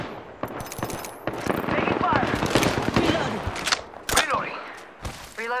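Rapid bursts of automatic gunfire from the battle royale game Apex Legends, loud and close, with overlapping volleys, sharp single shots and clattering game effects, while voices are heard in the background.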